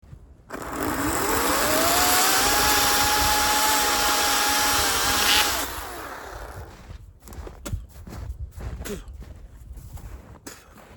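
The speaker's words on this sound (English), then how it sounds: "One of the downsides of using a chainsaw in an upward motion is you get a mouthful of sawdust" A chainsaw cutting firewood revs up to a loud, sustained whine that climbs in pitch and holds for about five seconds, then cuts off, leaving scattered knocks and rustling.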